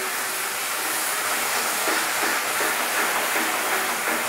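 Garlic frying in hot oil alongside onion sizzles in a steady, fairly loud hiss with faint crackles and pops throughout, no talking.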